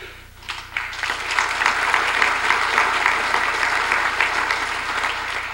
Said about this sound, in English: We should applaud it.